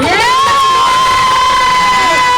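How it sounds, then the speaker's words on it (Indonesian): Crowd at an outdoor Betawi silat and ondel-ondel performance cheering and shouting together in one continuous, loud swell, with voices rising over a sustained high tone and no clear separate handclaps. "Kasih tepuk tangan dong."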